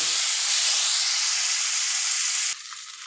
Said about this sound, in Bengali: তেল গরম হয়ে গেছে, এবার চিংড়ি মাছটা দিয়ে দেবো। চিংড়ি মাছটা এবার ভেজে নেব।